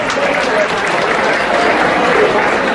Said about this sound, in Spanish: Oye, el aplauso fuerte,